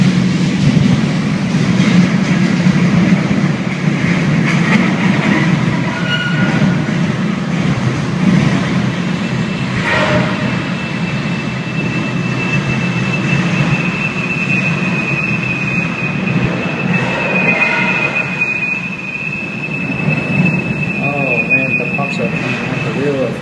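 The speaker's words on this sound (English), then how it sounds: "the situation became critical at a level crossing when vibrations caused a wheel set to break loose from the derailed car." A derailed train car rolls along the tracks toward a level crossing, a continuous loud low rumble with scattered metallic clanks and a faint high squeal, steady throughout with no speech.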